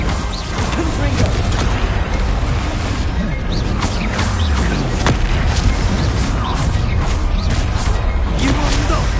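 Bombarda and Confringo spells in Hogwarts Legacy on PS4 go off as loud, repeated blasts and crashes through a dense, unbroken battle din, with voices mixed in.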